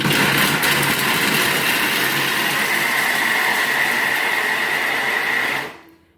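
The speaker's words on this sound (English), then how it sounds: "grating cheese is very noisy" A Thermomix TM7 grating cheese, a loud steady whirring motor grind held for several seconds, then abruptly winding down to silence.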